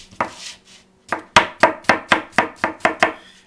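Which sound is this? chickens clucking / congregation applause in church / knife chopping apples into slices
knife chopping apples into slices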